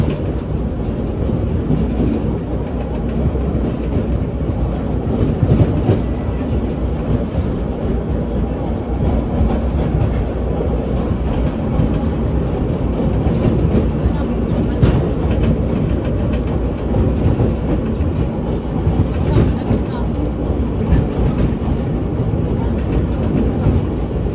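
A heritage train of the Hawaiian Railway rolls along the track near Kapolei with a continuous loud rumble and faint rhythmic wheel clatter, steady throughout and heard from on board.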